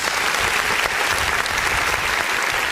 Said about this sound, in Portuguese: Vamos dar uma salva de palmas bem forte para o nosso Deus.